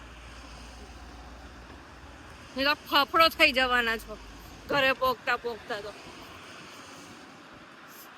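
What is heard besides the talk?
strong wind blowing outdoors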